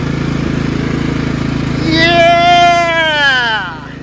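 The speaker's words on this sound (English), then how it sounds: "Riding around another free tractor." A Craftsman lawn tractor with a 14HP Kohler engine running at a steady low putter, then a voice rises over it with a whoop and a shout.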